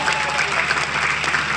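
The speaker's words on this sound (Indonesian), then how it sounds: "Tepuk tangan untuk." Brief burst of audience clapping at a school exhibition event in North Sumatra, steady and fairly close, lasting only a moment with no talk over it.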